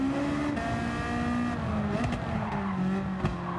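A race car in Gran Turismo 7 roaring steadily at high revs with a droning engine tone that dips as it brakes, with faint tire squeal and skid noise, loud and close, no talk.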